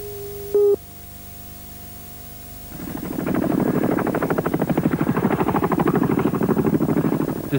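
Military helicopter sweeping over a naval firing range near Jervis Bay during the 1989 TasmanLink exercise: steady rapid rotor chop rising in after a brief electronic tone and static hiss, loud and continuous to the end.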